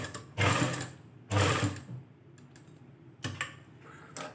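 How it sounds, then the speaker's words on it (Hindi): A sewing machine stitches cord onto a trouser hem in three short bursts of fast, whirring clatter at close range, separated by quiet pauses with light clicks. "यहाँ से सिलाई शुरू करेंगे, यहाँ तक डोरी को लेके आएंगे इस निशान तक।"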